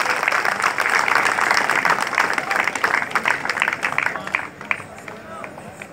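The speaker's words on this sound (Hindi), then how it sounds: "कृपया तालियों की गड़गड़ाहट के साथ इस प्रांगण को गुंजायमान करें" A packed hall audience at a Sanskrit event at JNU claps loudly in a thick, continuous burst that gradually thins into scattered individual claps, with some crowd murmur underneath.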